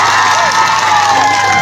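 Audience at a comedy show with Nepali comedian Madan Paudel, a loud steady wash of cheering and clapping from a crowd, filling the whole short burst.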